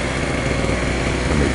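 Chicago 2 HP gas-powered electric generator, model 66619, running steadily with a buzzy small-engine drone, close and continuous with no speech.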